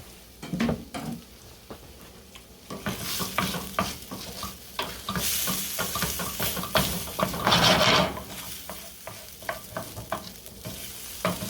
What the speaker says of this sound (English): Now you slowly cook the rice when you're making risotto.